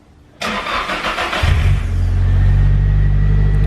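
A Nissan 180SX Type X with its SR20 engine cranks over and catches, then settles into a loud, close, steady idle rumble that continues to the end, with no talking.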